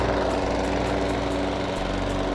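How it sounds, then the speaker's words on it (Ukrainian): A self-propelled Dnipro-M petrol lawn mower runs at steady revs while driving itself forward, giving a loud, continuous engine drone with a throbbing low hum and no voices. "І при цьому газонокосарка сама їде."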